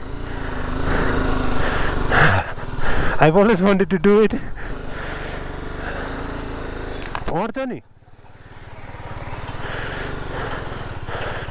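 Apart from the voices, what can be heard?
motorbike engine riding onto a suspension bridge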